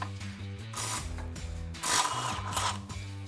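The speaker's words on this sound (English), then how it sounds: "We're gonna remove the lower shock bolt now." A hand ratchet clicks in quick rapid bursts while loosening the lower shock bolt on a Toyota FJ Cruiser during a leveling kit install, close and metallic, with a brief clank and no talking.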